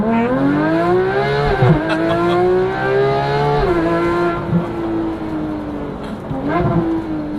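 A 2015 Porsche GT3 engine accelerates hard through several gears, loud and close, its rising pitch climbing then dropping at each quick shift, with tire noise mixed in.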